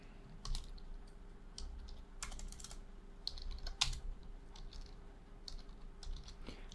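Someone types code on a computer keyboard in quiet, irregular bursts of close key clicks with short pauses between, and no one speaks.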